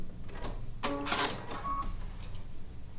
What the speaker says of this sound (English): I'm just going to let it sew over that pin.